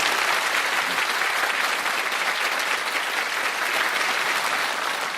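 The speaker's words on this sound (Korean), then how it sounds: "큰 박수 부탁드립니다." An audience applauds after a lecture at a live talk event, a dense, steady wash of clapping from a large crowd, loud and continuous throughout.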